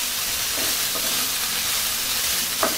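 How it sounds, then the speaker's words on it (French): Brussels sprouts frying in a pan over low-medium heat, a constant dense sizzle close up with a few soft stirring scrapes, no talking. "je vais ajouter les choux de Bruxelles. Et je vais prolonger la cuisson de 2-3 minutes"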